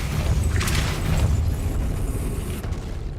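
A Depulso force-push spell is cast in the PS5 video game Hogwarts Legacy, giving a loud, close blast: a sharp whooshing burst over a deep rumbling boom that lingers for a few seconds before fading, with no one talking.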